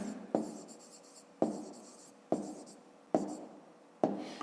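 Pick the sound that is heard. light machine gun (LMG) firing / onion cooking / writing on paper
writing on paper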